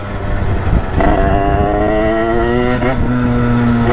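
A motorcycle engine idles and revs steadily after carburettor tuning, loud and close, with a strong harmonic drone that lifts in pitch around the middle before settling, running continuously throughout.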